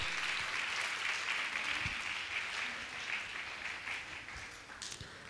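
Steady applause from a crowd at a Jain monk's question-and-answer gathering, a broad wash of clapping that holds evenly for several seconds without voices on top.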